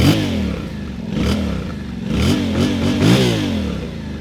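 A 2025 Yamaha Tenere 700 adventure motorcycle is revved repeatedly from idle, its engine rising and falling in several throaty pulses, close and fairly loud, with no talking.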